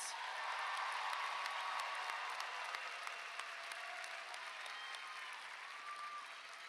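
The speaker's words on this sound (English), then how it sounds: "Give a round of applause for the champions" A crowd at a high school graduation ceremony claps for the champions, a steady, faint wash of applause that goes on for several seconds without letting up.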